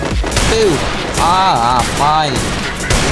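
Rapid, continuous gunfire in a shooting video game, loud and steady throughout, mixed with in-game effects while a player talks over it.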